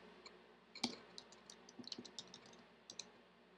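Someone slowly types a password on a computer keyboard, producing a sparse run of faint, close key clicks with irregular gaps between taps in a quiet room.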